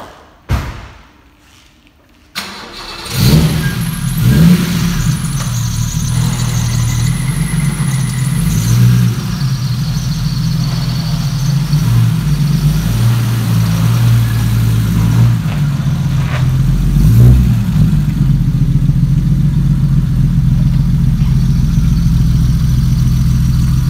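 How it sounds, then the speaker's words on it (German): A BMW 2800 CS engine starts with a cough and then rumbles deeply through a loud stainless steel exhaust, idling and revving unevenly for a long stretch. "Durch diesen Edelstahlauspuff hat er halt einen ziemlich fetten Sound für so ein Auto."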